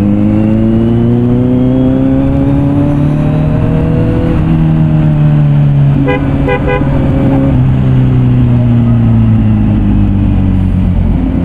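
A 2023 Z900 SE motorcycle with a Mivv full exhaust revs steadily with rising and falling pitch, its low exhaust drone continuous throughout, with a brief burst of higher tones midway.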